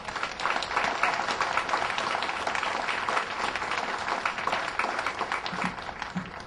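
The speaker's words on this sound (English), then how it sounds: "Let's give veterans a round of applause here." Steady, dense applause from a crowd honoring veterans at the Yamhill fair, continuous and fairly even for several seconds, heard at moderate distance without talk.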